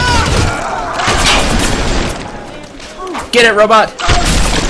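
Weapon fire and booming blasts in Bioshock land as heavy thuds amid chaotic combat noise, while someone talks loudly over it and a mechanical whirring shows up near the end.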